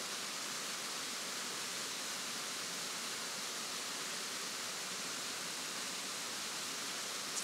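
Benton Falls waterfall rushing steadily, a dense even wash of water noise that holds unchanged for the whole stretch with no voices or other sounds on top.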